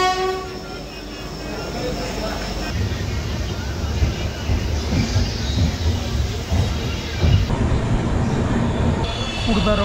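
Sri Jagannath Express, train 18409, heard from inside its general compartment near Khurda Road Junction: loud continuous wheel rumble and carriage rattle, with a horn sounding early and steady clatter throughout.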